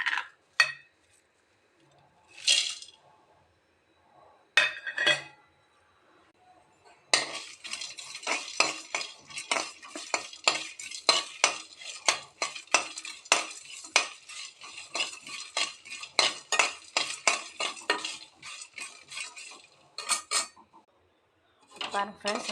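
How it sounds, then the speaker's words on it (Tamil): Whole spices dry-roasting in a wok for a spicy brinjal gravy, stirred with a metal utensil: sparse scrapes at first, then steady rapid scraping and rattling against the pan for most of the clip, close and fairly loud. "இப்போ வந்து நம்ம இது கூட வந்து வானலிலே ட்ரை ரோஸ்ட் பண்ணிக்கலாம்."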